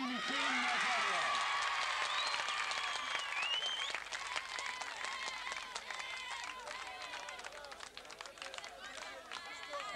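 Audience applause at a boxing tournament, loud and dense clapping with cheers and crowd chatter, thinning gradually over the span while a voice talks over a public address.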